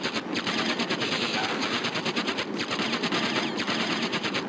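Rapid, dense bursts of gunfire from the Interstate 76 car-combat game rattle continuously at close range, loud and unbroken, as weapons strike a car, with no voices over the barrage.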